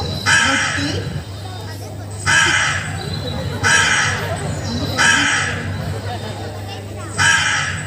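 Crows caw in five loud, harsh bursts spaced about every one and a half seconds, over a steady low hum and background murmur.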